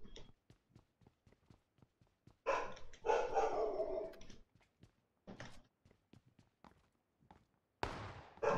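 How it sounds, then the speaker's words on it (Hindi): A dog barks in a PUBG PC Lite match, a few loud close barks clustered together with another short burst later, between sparse clicks and footstep-like taps. "किसका कुत्ता भौंक रहा है इतना?"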